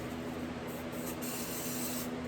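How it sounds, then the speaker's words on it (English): Glue activator sprayed from a can onto a small wooden seam ripper handle in a woodworking shop, a steady close hiss running throughout, alone with no talk. "give it a spray with your activator"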